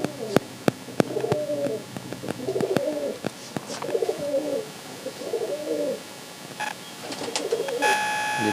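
Pigeons, including a black one, coo in repeated soft, throaty bursts at close range. A few sharp clicks and faint chirps mix in over a steady background.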